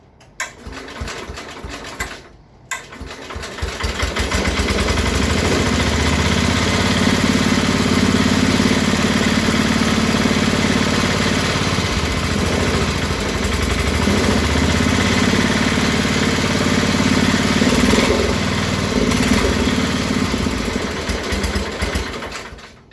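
A Bolens 1050 garden tractor engine idles slightly high just after its first start, a loud, steady, continuous chugging rumble after a brief uneven start.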